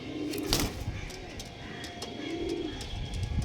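Low, soft pigeon coos rise twice against a constant background hiss, with a few faint clicks and ticks.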